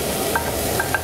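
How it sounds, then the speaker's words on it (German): Paprika, chili, onion and zucchini frying in coconut oil, a steady close sizzle with a few light clicks of a spatula stirring in the pan and no talking. "Und braten jetzt unsere Paprika, die Peperoni, die Zwiebel und die Zucchini,"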